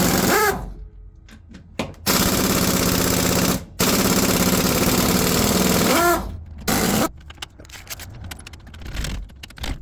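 An air impact tool powered by a basic air compressor rattling car wheel lug nuts off in loud, close, hammering bursts of a few seconds each, separated by short pauses and quieter clanks.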